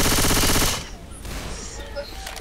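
Rapid automatic gunfire in the zombie shooter Left 4 Dead 2, a loud dense burst that cuts off after under a second, followed by faint game ambience.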